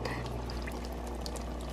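Water poured into a cup holding an earthworm being soaked as axolotl food, a steady soft splashing pour with a faint background hum, continuous and close throughout.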